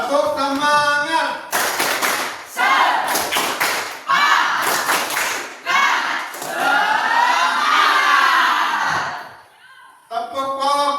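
A school class claps out a rhythmic chant, bursts of sharp group clapping alternating with chanted voices in a close, loud room.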